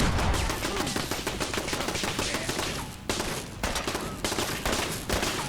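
Explosive machine gun turret firing in Fallout 4, a dense, continuous burst of rapid blasts and impacts that stays loud and close from start to finish with no pauses.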